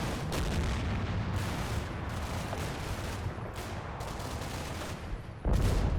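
Mortar fire in the WWII Normandy game Combat Mission: Battle for Normandy, a dense rumbling barrage of distant booms and crackling blasts with no talking, ending on a sharper, louder burst.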